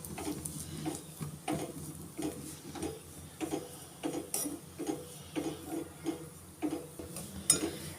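Grated coconut roasting in a pan for dry garlic chutney, with a metal spoon scraping and tapping the pan in a slow regular rhythm over a faint sizzle, quiet and close.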